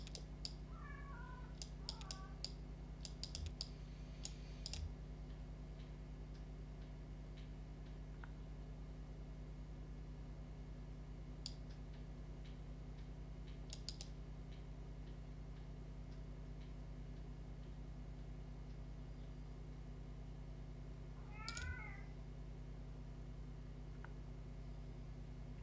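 A cat meows in the video game Kentucky Route Zero, two short faint mewing calls a long gap apart, over a quiet, steady low hum with soft scattered ticks.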